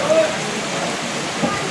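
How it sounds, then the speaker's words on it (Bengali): Steady rain falls outside during a rainy spell in a Bangladeshi village, a continuous broadband hiss that sits close and even for the whole stretch with no talk over it. "বাইরে বৃষ্টি হচ্ছে"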